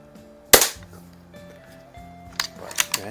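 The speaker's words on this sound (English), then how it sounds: "that's good shooting from one of these little BB guns" Single sharp crack of a Daisy model 99 BB gun shot striking a can, close and loud, followed by a few faint clicks and small knocks as the rifle is handled.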